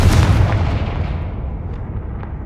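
A Confringo fire spell explodes in Hogwarts Legacy, a single loud booming blast at the start that rolls off into a fading rumbling tail over a couple of seconds, with no voices.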